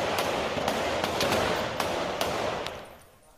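Rapid gunfire rings out in an exchange of shots between military police and drug traffickers in a Rio favela community hosting a baile funk party: several sharp, loud cracks over a steady roar, fading near the end.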